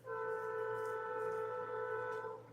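A train horn blares in one steady, sustained chord for over two seconds, loud and clear against a low background rumble.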